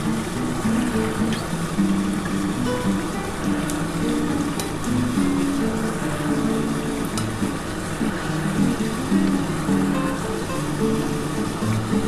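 Pieces of bhola fish drop into a pot of boiling potato curry broth with onion and tomato, giving a steady bubbling simmer and sizzle, with occasional soft clinks and splashes close by throughout.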